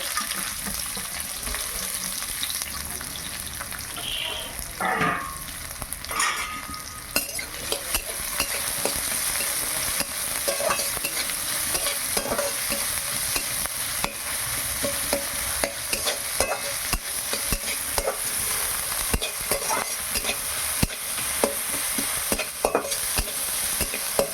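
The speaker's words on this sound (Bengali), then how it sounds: "এবার পেঁয়াজগুলো ভেজে নেব" Onions fry on their own in a pan, a continuous close sizzle broken by frequent clinks and scrapes of a spoon stirring, with a brief splash of running water partway through.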